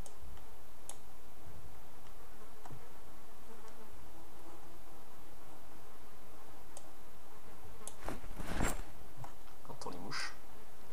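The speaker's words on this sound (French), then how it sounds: "J'entends les mouches." Flies buzz faintly in Project Zomboid, a thin insect drone over quiet game ambience, with scattered ticks and a brief louder burst of noise near the end.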